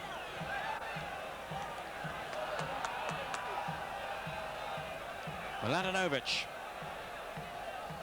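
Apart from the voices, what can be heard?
home football crowd cheering the team forward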